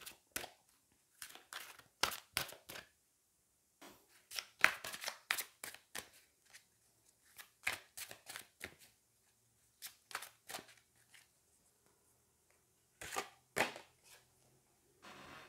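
Tarot cards being shuffled in quick, crisp bursts of riffling and slapping, close and quiet, broken by short pauses, with no talking.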